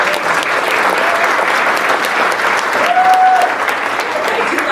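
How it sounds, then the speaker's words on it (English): An awards ceremony audience claps in sustained, dense applause that stays loud and even throughout, with a brief voice heard faintly over the clapping. "I do like when we clap every time."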